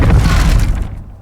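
A Levioso spell cast in Hogwarts Legacy erupts as a loud, close burst with a shattering, crackling quality that fades away over about a second, heard alone without talk.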